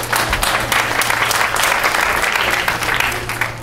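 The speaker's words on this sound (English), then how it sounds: "Let me applaud you." Sustained, dense applause from a theatre audience at a Ritz Theatre Company show, loud and steady throughout with a low hum beneath it.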